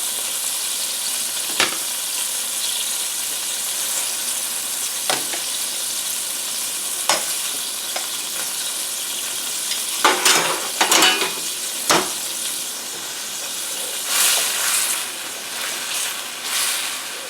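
Cooked pasta added to a pan of garlic and oil sauce: a steady loud sizzle and hiss, with occasional scraping stirs and clatters.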